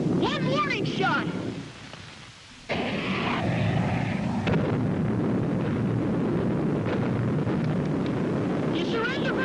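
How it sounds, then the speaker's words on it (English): In a radio drama, a warning shot goes off as one sudden, loud blast of rushing noise that rumbles on for several seconds, with voices speaking before and after. "One warning shot!"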